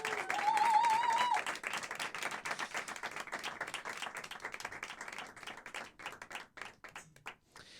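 Concert audience claps loudly for a singer, dense applause with a few whistles early on, then gradually thinning into scattered claps that fade out.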